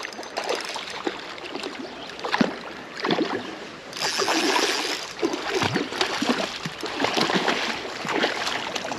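A rainbow trout released back into the water makes a watery splash and sloshing, with steady broadband splashing and trickling that runs throughout at moderate loudness.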